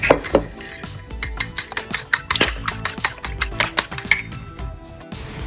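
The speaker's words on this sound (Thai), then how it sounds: "แล้วก็ตีไข่ เท่ากันนะคะ" Eggs with a spoonful of sugar are beaten with a utensil in a bowl, giving rapid, regular clinking taps, about three or four a second, close and crisp.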